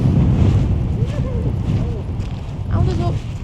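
Strong wind during a snowstorm roaring against the microphone in loud, continuous low rumbling gusts, with a voice talking over it.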